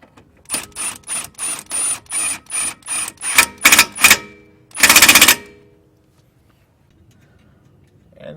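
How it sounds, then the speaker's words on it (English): An impact wrench draws a stud into the rear knuckle of a 2015 Subaru WRX during a toe arm install, firing in a quick series of loud rattling bursts that end in one longer hammering burst, close up. "I'm gonna draw the stud into the knuckle with an impact here"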